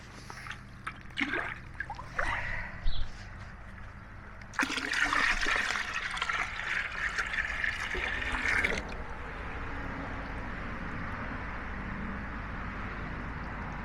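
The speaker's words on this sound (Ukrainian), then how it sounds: "Зараз додавлю ставкової водички і, і випущу рибу." Pond water pours into a bucket holding fish, first in scattered splashes, then a loud steady gush for a few seconds before it fades to a faint trickle, heard nearby with no talking.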